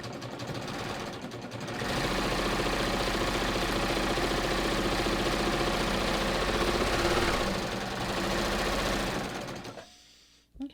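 Baby Lock Ovation serger sewing a 4-thread safety stitch, a loud, steady mechanical whir that starts up, runs continuously for several seconds, then slows and stops, with a clunk at the end.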